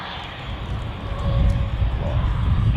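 An Embraer airliner at Zurich Airport after arrival, a steady low engine rumble that swells slightly toward the end, heard from a distance without anyone talking.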